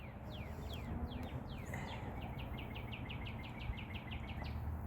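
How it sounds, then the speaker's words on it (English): Birds chirp outdoors in a quick run of short, bright, falling notes that repeat in a rapid series, over a constant broad background noise. "enjoying the birds chirping"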